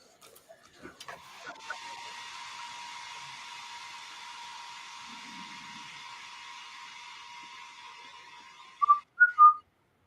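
A failed attempt at whistling: a thin, breathy airy tone held for several seconds after a few soft clicks, ending with three short sharper chirps.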